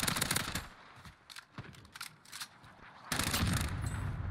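Rapid automatic gunfire in Call of Duty Warzone, dense bursts of sharp cracks that pause briefly and then resume louder, a fairly close firefight heard alone with no talk.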